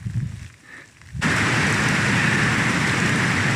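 Heavy rain falling at a bivouac in the Jura: a quiet rumbling opening gives way at once to a loud, steady, dense hiss of rain that carries on evenly to the end, with no voices.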